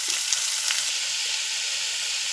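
Chopped onion frying in a pan with dried fish, a steady, close sizzle and hiss with faint stirring scrapes throughout, no voices.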